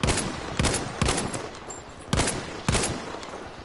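Battlefield 5 gunfire: five loud, close shots fired one at a time at a slow, even pace, each with a short echoing tail.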